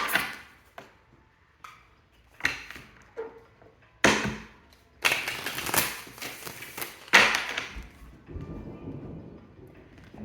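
Quick papery riffles and soft slaps of tarot cards being shuffled, arriving in several bursts with short pauses, close by and with no talking.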